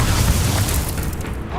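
Incendio fire spell cast in Hogwarts Legacy, a loud, close whooshing burst of flame that rumbles heavily and fades out over a second and a half.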